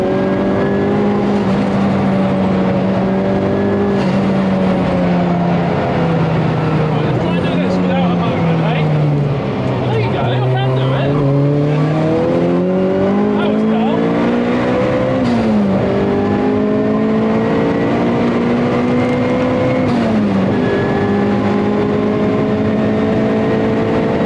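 A race car laps Snetterton circuit on AO52 tyres on a drying afternoon, its loud, steady engine drone close throughout, pitch falling and climbing through gear changes and corners without a break.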